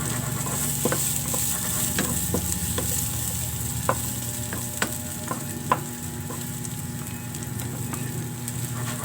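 Ingredients sauté in hot oil in a wok for chicken adobo, a steady close sizzle broken by scattered sharp clicks and taps of a utensil, with no one talking.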